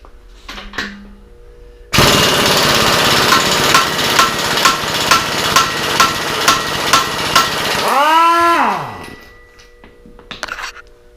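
A pneumatic impact gun hammering at a seized rear axle nut on a Harley-Davidson motorcycle, one long loud rattling burst with rhythmic pulses, then spinning down as the trigger is released.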